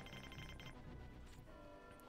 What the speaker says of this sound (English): And we can toggle off the alarm.